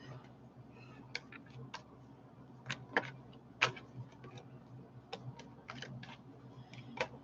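Faint, irregular light clicks and taps of tarot cards being shuffled, scattered sparsely over a low background hum.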